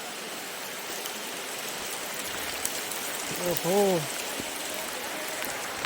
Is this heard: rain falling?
yes